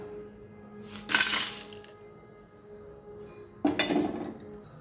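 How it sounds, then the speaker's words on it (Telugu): Dry roasting of sesame, coriander seeds, cumin, dried coconut, cinnamon, cloves, cardamom, red chillies and peanuts in a pan comes through as two short bursts of rattling, scraping clatter from the seeds and pan, with quiet gaps between. "నువ్వులు, ధనియాలు, జీలకర్ర, ఎండు కొబ్బరి, దాల్చిన చెక్క, లవంగాలు, యాలకులు, ఎండుమిర్చి ఫ్రై చేసుకుంటున్నానండి."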